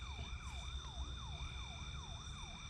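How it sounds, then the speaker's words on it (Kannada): An emergency siren wails in a rapid repeating up-and-down sweep, about two cycles per second, steady and moderately distant over faint traffic rumble, with no voices. "ಸೈರನ್ ಸೌಂಡ್ ಮಾಡ್ತೀವಿ"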